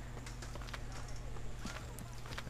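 Horse hooves clip-clop in quick, irregular beats in Assassin's Creed 3, faint and close under a low steady hum.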